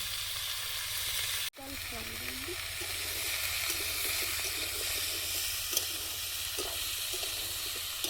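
Vegetables fry in a pan with crushed garlic, a steady close sizzle and hiss with soft stirring clinks, broken by one brief dropout near the start.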